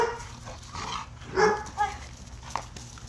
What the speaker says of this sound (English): This little dog thinks she is the biggest, baddest damn dog in the park.